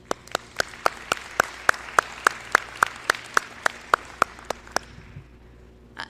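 Slow, sparse clapping at a college foundation scholarship reception: about twenty distinct, evenly spaced claps ring out one by one, close and sharp, before stopping near the end.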